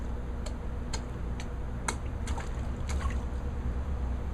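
Water plucked by hand in a concerto water bowl: a series of small, distinct wet plinks and drips at irregular intervals, close and quiet, over a steady low background hum.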